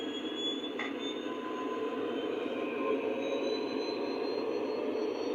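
A Lionel SD40-2 model locomotive in Panama Canal Railway livery throttles up in reverse, giving a steady, fairly quiet electric motor hum and whine with faint rising tones throughout.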